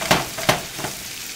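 Chopped tomatoes and onion sizzle in a pan as a utensil stirs them, with three quick scraping strokes over a steady frying hiss, close up and without talk.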